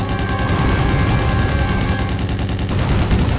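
Rapid, continuous bursts of gunfire from the video game Hyper Fighters crackle loudly and densely throughout, like an unbroken volley of blasts with a booming low end.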